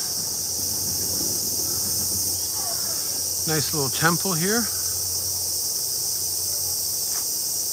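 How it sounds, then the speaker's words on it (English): A constant high-pitched cicada drone fills the air on Enoshima, Japan, while someone speaks briefly near the middle. "You can hear the cicadas."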